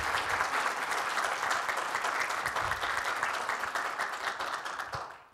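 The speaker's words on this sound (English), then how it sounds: "If we could just give them another round of applause." A church congregation applauds the cafe team with a full, steady round of clapping, dense and even throughout before tapering off at the close.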